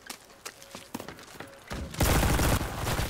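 Single gunshots ring out in the WW2 shooter Enlisted, then at about two seconds a dense, loud fusillade of overlapping fire takes over and continues to the end.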